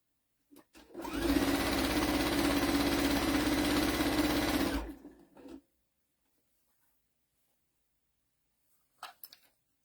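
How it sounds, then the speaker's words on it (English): A sewing machine stitches steadily around the edge of a basket towel in one continuous run of about four seconds, then winds down and stops, followed by a few faint clicks near the end. "And then just sew all the way around."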